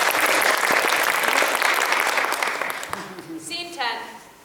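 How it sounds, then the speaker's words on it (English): Loud roaring applause in a room during a staged play reading fills the first three seconds with dense clapping, then fades quickly as a voice begins speaking. "Roaring applause echoes through the room."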